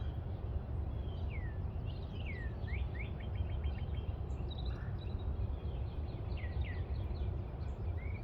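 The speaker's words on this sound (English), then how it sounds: "I love listening to the birds." Birds chirp and whistle in short repeated phrases outdoors in the middle of a city, their songs carrying over a constant low background hum of traffic.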